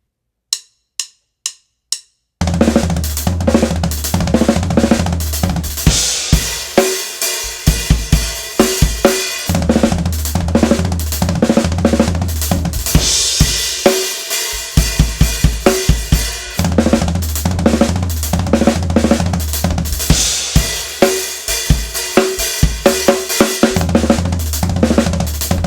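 A fast drum pattern played on a pared-down drum set with no rack toms runs continuously for about 25 seconds, with dense, loud kick, snare and cymbal hits after a few sparse opening clicks.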